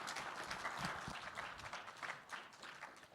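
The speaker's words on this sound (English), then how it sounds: "All right, round of applause for Hunter and Andrew." Quiet applause from an audience at a sports analytics hackathon finals, a soft, continuous patter of many hands heard at a distance for a few seconds.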